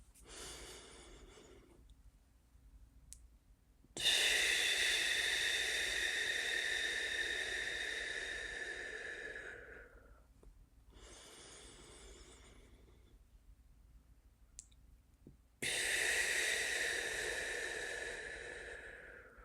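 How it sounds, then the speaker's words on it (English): Slow, deep breathing during a relaxation exercise: long, airy inhales and exhales with pauses between them, close to the microphone and soft, with no talk. "Breathing in for about 3 seconds, holding for a second or 2, breathing out slowly for about 6 seconds or more."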